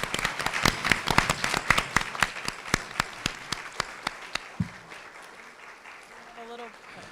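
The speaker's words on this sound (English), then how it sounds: "I think they deserve a round of applause." An audience at a suicide awareness summit gives speakers a round of sparse, evenly spaced claps that carry on steadily and fade, with a voice talking faintly at the end.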